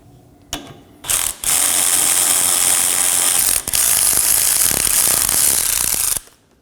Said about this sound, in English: Now we could remove our first 14mm bolt.